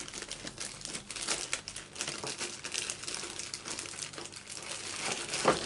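Double-sided tape being handled for papercraft, a steady close crinkling and rustling of plastic liner throughout, with no talk.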